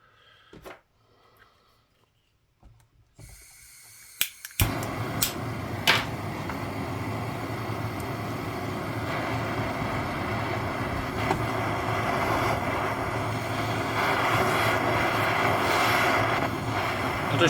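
A blowtorch heats a Cuban coin for ring making, igniting with a few clicks and then roaring as a loud, steady hiss that continues and builds slightly to the end.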